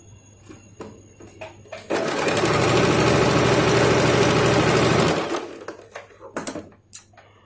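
An electric sewing machine stitching a straight salwar runs in one loud, steady burst of about three seconds, framed by softer handling clicks and fabric rustles before and after.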